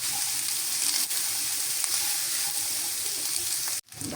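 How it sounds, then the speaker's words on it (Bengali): Cooked rice stir-fried in a pan gives a steady soft sizzle with scraping and stirring scrapes throughout, a brief cut near the end, no one talking. "ভালো করে ভাজতে হবে।"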